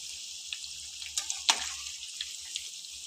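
Shankarpali, a Diwali sweet, frying in oil over a medium gas flame. The steady, quiet hiss is broken by scattered small crackles and pops, with a faint low hum beneath.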